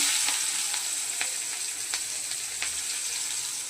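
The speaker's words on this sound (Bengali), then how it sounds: "এবার দিয়ে দিচ্ছি পেঁয়াজ কুচিগুলো" Chopped onions dropped into hot oil with cumin seeds in a pan sizzle steadily, with a dense frying hiss and scattered sharp crackles throughout and no talking.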